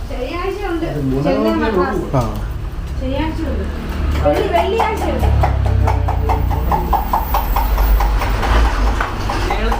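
A diesel train hauled by a double engine rumbles steadily with low, heavy drone and a rhythmic clatter building in the second half, while people talk over it throughout.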